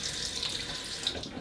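Water runs steadily from a tap as a straight razor is rinsed, a close, even hiss of flowing water.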